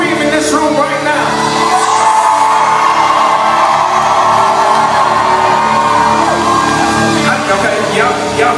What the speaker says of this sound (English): I want to hear you scream in this room right now